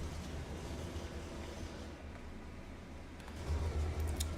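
A train in the Trainz video game rolls along with a faint, steady low rumble that swells slightly near the end, with no voices.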